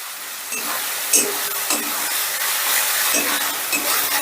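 Ground ginger, garlic and green chilli paste is stirred into frying onions in a pan, loud close sizzling with repeated scraping strokes of the spoon in an uneven rhythm across a few seconds.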